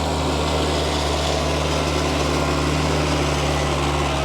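A tractor engine drones steadily while grading a woodland trail with a grader box, a constant, moderately loud mechanical hum with no pauses or voices.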